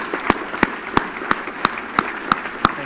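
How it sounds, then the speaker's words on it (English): A small audience claps for a business panel at a keynote lunch, heard as sparse, evenly spaced claps roughly every third of a second rather than a dense ovation, fairly quiet in the room. "Let's give our panelists a round of applause."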